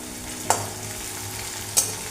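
Onions fry in hot oil in a home kitchen as a fish curry is cooked, a steady low sizzle with two short stirring scrapes standing out clearly, close and moderately loud, with no talking.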